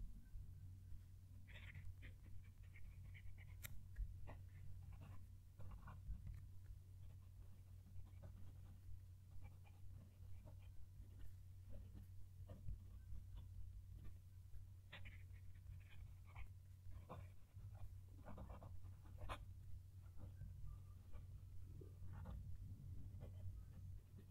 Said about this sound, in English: Going to move the mic down to the page so you can hear the pen write.